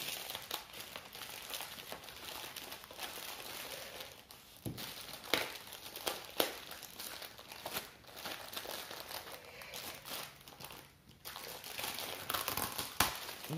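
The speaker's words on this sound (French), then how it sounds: "faire craquer un petit peu le sachet" A plastic packet crinkles and crackles softly in irregular bursts, with a few sharper rustles, close and fairly quiet.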